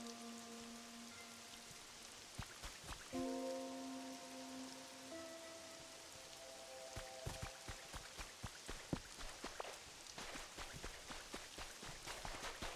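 Rain falls steadily in a video game, a soft continuous patter with scattered droplet ticks, joined partway by a faint melodic tone and light footstep-like taps.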